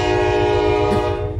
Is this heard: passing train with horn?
yes